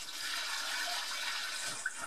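Water pours into flour and yeast for wheat bread dough at an open-air museum, making a steady, rushing splash that lasts about two seconds with no talking.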